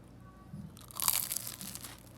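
Crisp bite into a crunchy turon, a Filipino fried banana roll, dipped in hazelnut spread: one close crunching burst with crackly tearing, quiet and alone.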